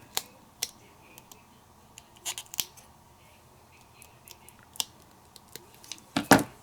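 Scissors trim the edges of a paper die-cut heart in a series of quiet, sharp snips and clicks, scattered irregularly with a louder cluster of cuts near the end.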